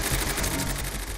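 A wartime Enigma codebreaking bombe, one of a bank of rotor-driven machines, runs steadily up close with a dense, continuous mechanical chatter and whirr, much like a sewing machine.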